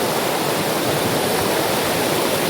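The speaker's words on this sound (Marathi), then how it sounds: "पाण्याचा फ्लो बघा." Loud, rushing river water near Pahine Waterfall roars continuously at a crossing, a dense, steady wash of noise with no voices.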